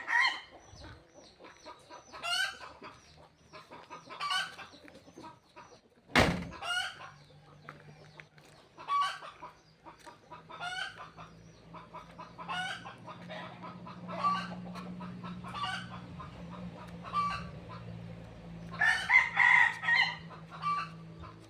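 Chickens cluck repeatedly close by while a rooster crows from a rooftop in a rural village, with a sharp bang partway through and a low hum in the background.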